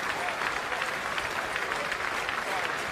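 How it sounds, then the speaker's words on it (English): Crowd around a county cricket ground applauding a retiring batsman's final appearance, sustained warm clapping and cheering across the whole stretch, with a commentator's voice talking over it. "The expected adulation around the ground as Marcus Trescothick"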